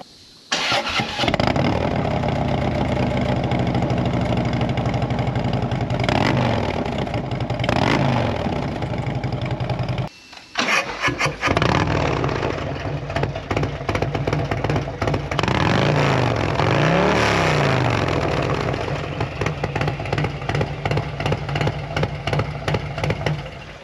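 A tuned Harley-Davidson Road King twin cam engine with the catalytic converters removed runs loud and close, idling with rev swells. It cuts out briefly partway through, then comes back with a rapid, throbbing exhaust beat.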